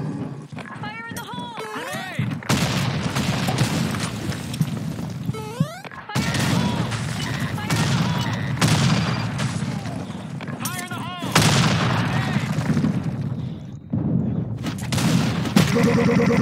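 Grenade explosions and rapid gunfire in a video game, a loud continuous barrage of shots and booms with short pauses, with voices calling out during the fighting.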